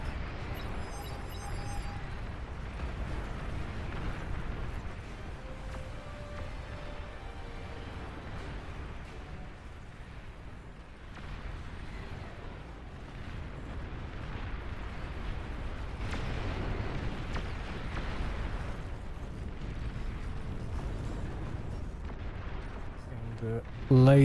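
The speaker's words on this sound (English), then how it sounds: "Another bombing run attempt." Bombing run explosions in the Beyond All Reason strategy game: a long rumbling barrage of booms and artillery-like blasts, mostly steady and mid-level, running under ongoing game commentary.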